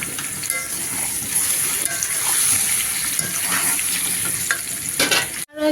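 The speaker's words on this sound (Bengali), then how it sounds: "এখানে ডিমগুলো ভাজা নিতেছি" Eggs fry in a large pan during big-batch cooking for a crowd of sixty to seventy, a steady hiss and sizzle with occasional scrapes, ending in a sudden drop to near silence.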